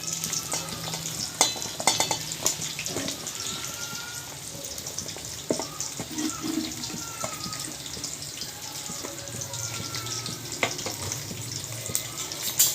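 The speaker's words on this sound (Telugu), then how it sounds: "దాని తర్వాత కట్ చేసి పెట్టుకున్న మొత్తం ఆనియన్స్ ఇంకా మిర్చి మొత్తం వేసేసుకుందాం." Chopped onions and green chillies fry in hot oil with bay leaf and cinnamon, giving a steady close sizzle broken by scraping stir strokes and occasional clinks of utensils on the pan.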